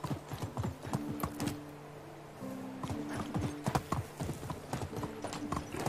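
Horse hooves clip-clopping in a rhythmic gallop with short whinnies, from an injured horse in the medieval survival game Medieval Dynasty, accompanied by steady musical tones and a faint voice.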